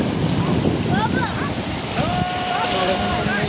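Sea waves wash in at a beach in Jeddah, a steady broadband rush mixed with wind buffeting the microphone, while distant high calls rise over the surf.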